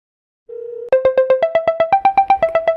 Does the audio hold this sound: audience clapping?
no